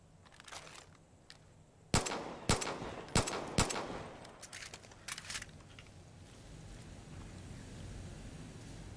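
Gunfire at a proximity explosive in the video game Far Cry 5: four sharp, loud cracks in quick succession, then a few more scattered shots over low ambient wind and hiss.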